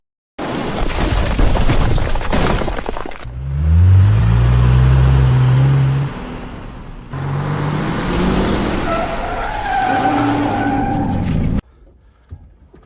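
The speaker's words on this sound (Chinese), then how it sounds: "有声音，是引擎声。" An engine from a racing car on a winding track, likely a beat-up Santana, roars and revs in sustained waves, dropping into a deep low rumble midway before climbing again with rising pitch, then cutting off abruptly.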